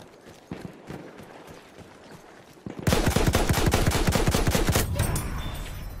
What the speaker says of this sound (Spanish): Acabo de escuchar disparos acá.